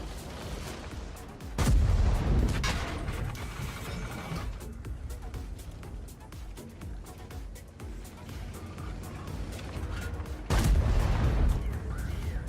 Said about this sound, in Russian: ППшки стреляет.